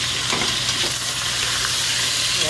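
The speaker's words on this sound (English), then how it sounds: "what we're doing is we're frying the oxtail a little bit" Oxtail sizzles and fries steadily in a pan up close while being stirred with a spoon, producing a continuous crackling hiss.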